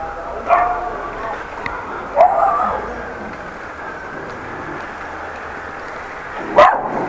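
A dog barks indoors in three separate short bursts, loud and close, with someone speaking over a quiet background between the barks.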